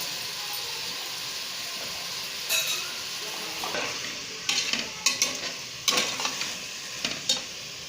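Tomatoes sautéing in oil in a pan for a Tamil black-eyed pea kulambu, with a steady soft sizzle and intermittent louder scraping stir strokes toward the end, no talking.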